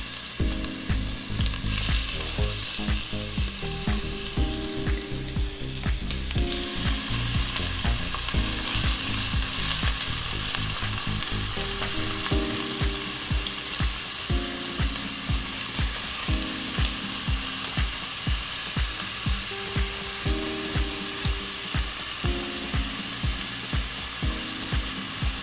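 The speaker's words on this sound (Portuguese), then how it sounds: "Olha lá, já está fritando." Onion dropped into a hot pan of oil sizzles and fries steadily for a parmesan risotto, a loud continuous crackle with occasional clinks and stirring clatter throughout.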